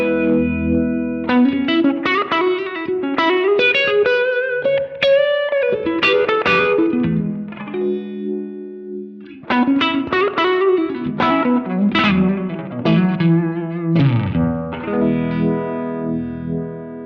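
An electric guitar through a Cornerstone Aquarium pedal set to a Univibe-style chorus, blend at half mix, plays chords and picked phrases with a lush, wavering shimmer, loud and alone, pausing briefly midway.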